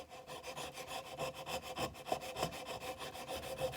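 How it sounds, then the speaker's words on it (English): A sharp chisel pares wood along the back of a handmade wardrobe's hidden mortise and tenon joint, giving a steady run of close, dry scraping strokes in a quick rhythm with no voices. "I've got a nice little sharp chisel here. Just gonna remove some of this along the back"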